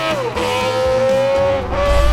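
Honda RC166 six-cylinder 250cc racing motorcycle from the 1960s, its engine revving at a loud, high-pitched shriek with the pitch dipping and climbing as the throttle changes, close and continuous.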